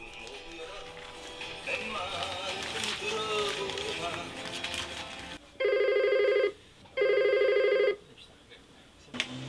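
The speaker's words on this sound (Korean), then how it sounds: "연탄 주문 전화는 이런 날도 쉴 틈을 주지 않네요." An old landline telephone rings twice in loud, steady bursts in a quiet room, following a stretch of muffled indoor noise, as a coal briquette order call comes in for an elderly briquette delivery couple.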